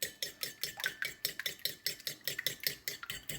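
Rapid, regular clinking of a whisk against a bowl as two eggs are beaten together for banana bread batter, a close, quick rhythmic tapping heard on its own.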